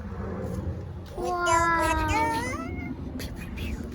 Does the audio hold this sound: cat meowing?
yes